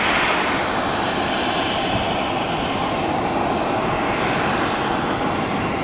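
A McDonnell Douglas MD-80 airliner lands at Tampa airport, its engines making a loud, continuous broadband roar that holds steady throughout, with no speech.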